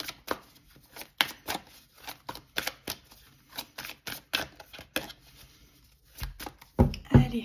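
An oracle deck is cut and handled, producing a series of sharp, close card clicks and flicks in an uneven rhythm, ending with a louder cluster of slaps as the halves come together.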